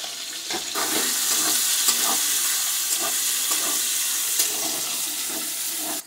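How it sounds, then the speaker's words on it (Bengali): Paneer pieces fry in hot oil with a loud, steady sizzle and occasional stirring clinks. No one speaks. "এই পনিরটা ভেজে নেব।"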